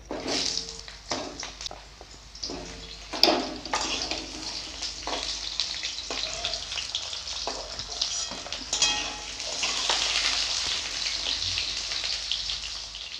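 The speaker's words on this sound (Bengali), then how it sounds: "আলুগুলোও ভেজে নেব।" Potato pieces frying in hot oil in a home kitchen pan, a continuous crackling sizzle with scattered sharper pops and a brief stirring clatter, growing denser toward the end, with no talk.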